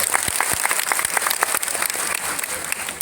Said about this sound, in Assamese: মই ভাবোঁ এটা হাত চাপৰি মাৰি তেখেতক